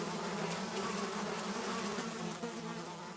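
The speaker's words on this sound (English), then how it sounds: "there's bees in here" Bees buzzing indoors, a dense, continuous, faint drone with wavering pitch that holds steady throughout with no talking.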